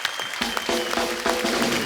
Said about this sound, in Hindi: एक बार रहमान साहब के लिए जोरदार तालियां हो जाए